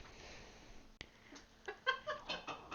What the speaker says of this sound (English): Cat being weird.